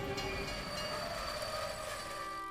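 A small cartoon train rolls along its rails with a dense rumble and a high metallic wheel squeal, loud and close with no voices.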